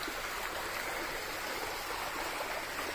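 A strong stream of water rushes down a hillside walkway in Kallidukku, Thrissur, a loud and steady, unbroken hiss of flowing water with no let-up.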